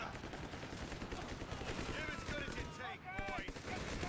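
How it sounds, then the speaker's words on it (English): Machine gun fire in Company of Heroes crackles as a continuous, fairly faint rattle of rapid shots beneath a busy battle mix, with whistling and sweeping effects partway through. "You're leading with the machine gun."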